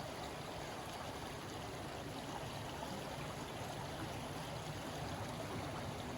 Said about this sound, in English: this is a different little creek.